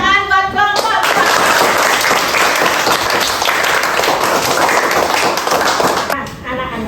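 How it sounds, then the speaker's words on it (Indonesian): A classroom of children claps for a group during a Hindu religion lesson, dense close applause lasting several seconds, bracketed by a teacher's voice before and after. "Tepuk tangan buat kelompok."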